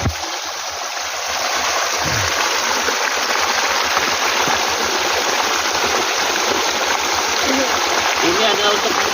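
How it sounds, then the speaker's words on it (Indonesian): Water rushes continuously as Gayo coffee beans from Aceh are washed after their first grinding, a steady loud flow with a voice speaking now and then over it. "Inilah proses pencucian setelah dilakukan penggilingan pertama."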